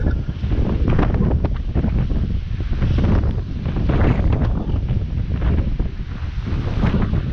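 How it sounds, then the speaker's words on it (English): Strong wind buffets the microphone in continuous low roaring gusts, loud and close, with no other sounds standing out. "it's very windy, not rainy but windy"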